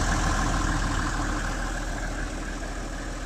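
Engine of a BV-206 tracked all-terrain vehicle running close by, a steady rumbling idle with a low throb that holds evenly throughout, no voices.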